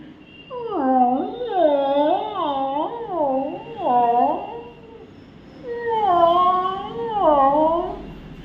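A human voice imitating dog howling, with wavering rising and falling tones in two long bursts separated by a short pause, close and clear.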